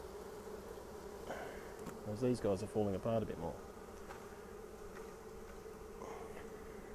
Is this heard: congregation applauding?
no